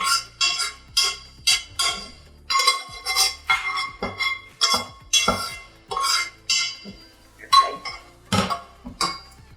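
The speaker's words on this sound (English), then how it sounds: "we're just going to stir it into the sauce, making sure that all of the macaroni is coated in this delicious cheese sauce" Macaroni being stirred into cheese sauce, with repeated metallic clinks and scrapes of a spoon against the pot in a steady, uneven rhythm, close up.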